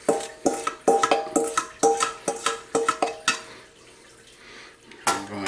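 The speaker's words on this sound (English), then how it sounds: "scrape off our spoon and back to the mix" A spoon scrapes and knocks against a bowl, clearing out butter for chocolate cherry bars, in a series of close, sharp clinks and scrapes at an uneven rhythm, then a quieter pause before one last clatter.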